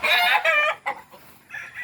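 A rooster crows loudly at close range on a farm in a long harsh call, followed by a few shorter squawks and hen clucks.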